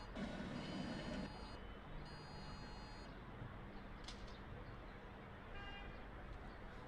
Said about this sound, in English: I heard an alarm go off.